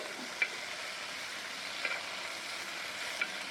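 Finely chopped gongura leaves fry in a pan with a steady, soft sizzle, broken by a few faint clicks of stirring.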